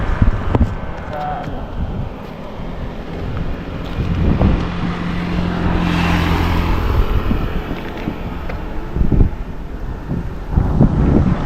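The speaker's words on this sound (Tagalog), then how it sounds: "Medyo malakas yung hangin." Strong wind gusting outdoors at a drone takeoff spot, a steady broadband rush with buffeting against the microphone, rising through the middle and swelling again near the end, with people talking under it.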